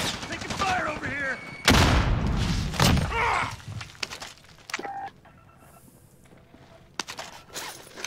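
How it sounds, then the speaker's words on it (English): Bursts of gunfire in a shooter video game, a few sharp cracking volleys early on, then sparse scattered shots, mixed with game radio chatter and a voice speaking. "Taking fire over here."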